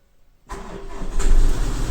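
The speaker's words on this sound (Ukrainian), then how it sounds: "натискаю клавішу і пробую одразу заводити машину." A 2016 Land Rover Discovery Sport with an ignition and dashboard fault and a battery reading about 6 volts starts after a brief silence, cranking abruptly and settling into a close, rising idle.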